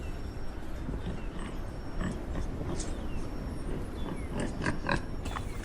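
Wild boar in its final struggle, surrounded by a pack of wild dogs: steady rough grunting and squealing close by, with sharp higher cries bursting out near the end, no talk.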